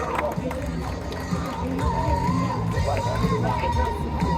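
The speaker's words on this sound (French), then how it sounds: "la 6e position revient à Paul Bertrand, qui va venir nous rejoindre sous un tonnerre d'applaudissements." Crowd at a kids' long track motorsport championship podium ceremony in Marmande, busy cheering and shouting with children's voices and general babble, continuous and fairly loud, with people talking throughout.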